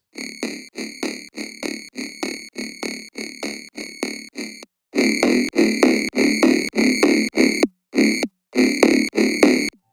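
A gritty, distorted synth bass plays short rhythmic notes, a quick regular pattern that pauses briefly, then returns with longer, louder, buzzier hits.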